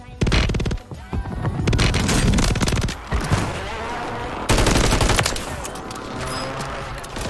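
Rapid automatic gunfire from Call of Duty Warzone, Resurgence mode on Fortune's Keep, rattles in dense bursts close by, broken by short pauses and a second loud volley, with a voice briefly audible.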